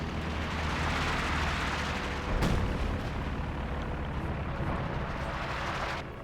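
Artillery fire in the Company of Heroes 2 wartime strategy game, a dense continuous rumble of distant bombardment with one sharper blast standing out midway.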